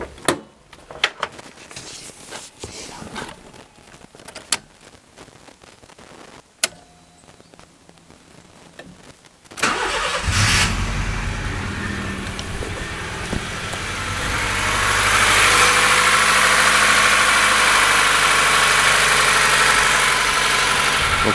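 A Honda Civic EJ9 engine cranks and catches after scattered clicks and knocks, then settles into a loud, steady idle with a rising broadband roar that holds close and constant.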